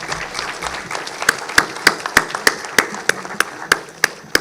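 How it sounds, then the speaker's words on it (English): An audience at a national intellectual property awards and conference ceremony applauds the delegates. A soft crowd clapping builds into loud, evenly spaced rhythmic claps that pulse steadily to the end. "Please join me in giving our distinguished delegates a huge and well-deserved round of applause."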